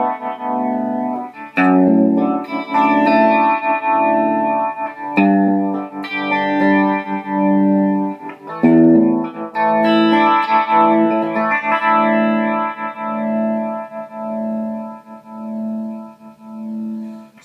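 Electric guitar through a Mr. Black Tunnelworm through-zero flanger pedal with the zero knob cranked, played as loud sustained chords and notes that sweep with a swirling, jet-like whoosh, steady and close with no talking.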